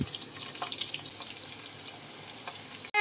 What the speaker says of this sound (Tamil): ஒரு மீடியம் சைஸ் வெங்காயம் நான் ஸ்லைஸ் பண்ணி வச்சுருக்கேன், அதை நான் போட்டுக்கிறேன்